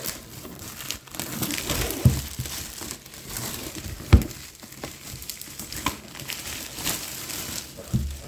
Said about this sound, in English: let's rip off the protective plastic